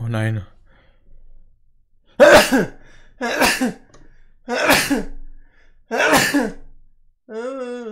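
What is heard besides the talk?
sneeze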